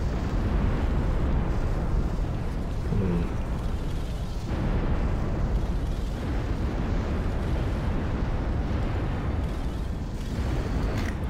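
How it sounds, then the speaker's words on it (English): Bombing in the strategy game Ashes of the Singularity: a dense, continuous rumble of overlapping explosions and booms, loud and sustained with no voices. "We appear to be getting bombed."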